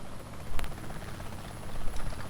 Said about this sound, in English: Hopefully the chopper can't see us.